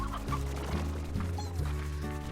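Hens cluck repeatedly in the Slime Rancher video game, a steady run of close, moderately loud fowl calls over a constant background hum, with no talking.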